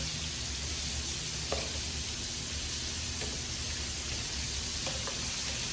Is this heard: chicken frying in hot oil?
yes